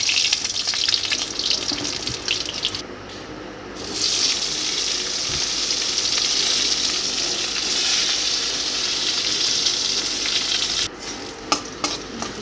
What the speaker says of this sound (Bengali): যে আলু দেবো সেগুলো কেটে রেখেছি তেলের মধ্যে দিয়ে দেবো